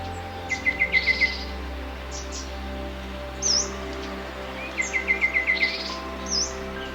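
Birds in a Borneo tropical rainforest call in short rapid trilled bursts of repeated chirps, a few near and clear over a steady low hum of insects and forest ambience, with brief sharp notes between the trills.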